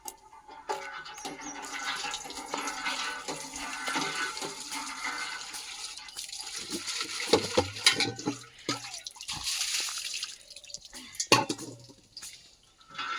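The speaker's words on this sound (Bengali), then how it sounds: "দাঁড়া জল ভরে নিই" Water from a tap filling a container outdoors, a continuous rushing and splashing flow with some metallic clanks, faint voices in the background.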